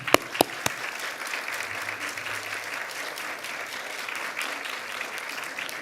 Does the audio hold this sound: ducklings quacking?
no